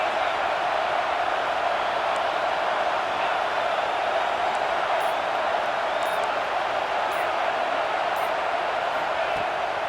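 A football stadium crowd roars for the defense on a big third down during a Ducks versus Huskies game, a steady, dense wash of cheering that holds loud throughout with no break.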